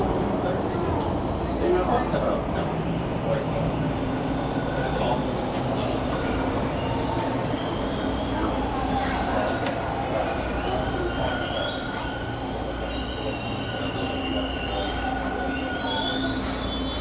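A Toronto subway train pulls into Christie Station on a hot summer afternoon, rumbling loudly and continuously with screeching, squealing wheels, while a voice speaks over the noise.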